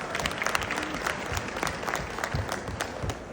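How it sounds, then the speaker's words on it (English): Audience applause at a business awards show, a crowd clapping with distinct individual hand claps standing out near the microphone, moderately loud and steady for a few seconds. "You can stand and take applause."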